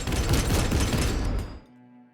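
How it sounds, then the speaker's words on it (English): Heavy autocannon fire in a Konflikt '47 tabletop battle, heard as a dense, loud rattling burst that holds for about a second and a half and then stops abruptly, leaving a faint low hum. "the autocannons rip through the building and take out the spotter"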